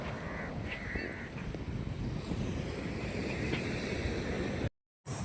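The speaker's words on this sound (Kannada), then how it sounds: "ಬೀಚಿಗೆ ಬಂದೀವಿ ನೀರು ಫುಲ್ ಆಯ್ತು" Wind buffets the microphone at Padubidri beach, a blue flag beach on the Karnataka coast, with continuous broadband surf and gusts roaring loudly before a sudden cut to silence near the end.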